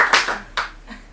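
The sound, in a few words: audience clapping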